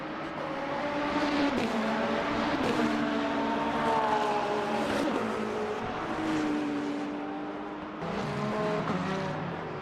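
BMW race cars battling at Imola in the Le Mans Ultimate racing game at night, engines droning and rising through gears, with revs swelling and dropping as the cars shift and chase each other, heard alone without talk.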